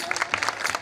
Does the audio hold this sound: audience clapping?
yes